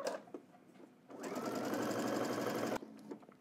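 A domestic sewing machine stitching fabric for a Simplicity pattern garment, a steady close whirring run of about two seconds that starts and stops abruptly, with light handling clicks before and after.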